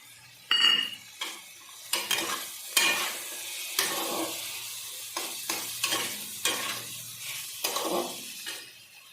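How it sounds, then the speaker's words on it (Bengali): Green peas tipped into a hot wok of broccoli curry and stirred, with a clatter as they land, then a steady run of scraping spatula strokes over a soft sizzle, close and clear. "এবার আমি কড়াইশুঁটিটা দিয়ে দেবো।"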